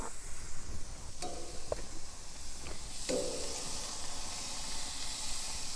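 Shrimp sizzle on a hot grill with a continuous bright hiss, broken by a few sharp clicks and light taps of handling, close and steady with no speech.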